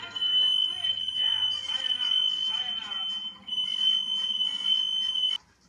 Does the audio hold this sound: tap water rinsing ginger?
no